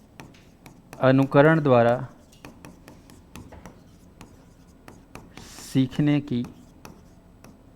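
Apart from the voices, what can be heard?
teacher writing on a board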